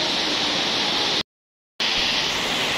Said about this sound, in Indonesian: Hujannya semakin deras teman-teman